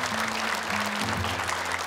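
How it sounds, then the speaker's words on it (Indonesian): An audience at a Quran memorization graduation event applauds for the jury, a dense continuous wash of clapping with a faint tonal hum or music underneath. "Boleh tepuk tangan untuk dewan juri kita sebenarnya"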